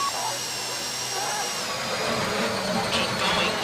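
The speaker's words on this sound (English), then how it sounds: "go in your bag, get out the drill" A steady, grinding drill whine bores into a safety deposit box during the Fleeca Job heist in GTA V on PC. It runs continuously for the whole stretch, mixed with other game sounds.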